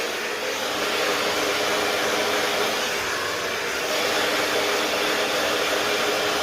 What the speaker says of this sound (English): Scooping the dryer underneath the brush, so to get that rounded effect between the brush and the dryer